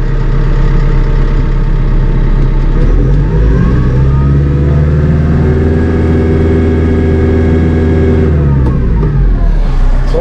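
Massey Ferguson 2850M compact utility tractor with a cab and power shuttle transmission, diesel engine rumbling loud and steady while driving, its pitch rising and falling with throttle changes; no talking.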